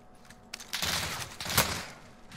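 A short burst of gunfire from the video game Warzone, a few quick muffled shots at moderate distance, with no talking.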